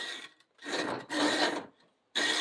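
Hand saw blade pushed through a groove cut in metal lamp pipe, giving rasping strokes in three or four bursts separated by short pauses, close and moderately loud with no talk.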